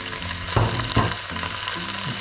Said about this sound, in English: Next, add in the minced beef.